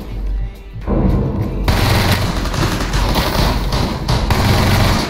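Rapid, loud bursts of gunfire from a shotgun in an online multiplayer shooter, dense overlapping blasts that begin after a brief lull and continue heavily for several seconds.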